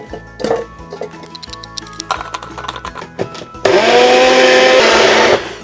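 A blender grinds peeled pear for a galbi-jjim marinade, starting with short clattering pulses and chopping knocks, then a loud, steady whirring roar for a couple of seconds before cutting off.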